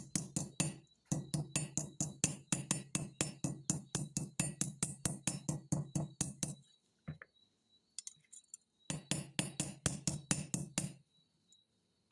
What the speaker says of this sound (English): I'm still going to come in with the other hammer.